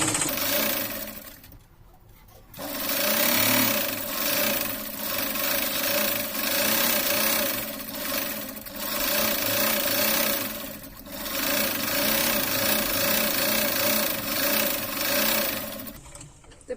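A sewing machine stitches a lehenga's drawstring, running in long steady whirring bursts with brief pauses between runs, close and loud with no talk.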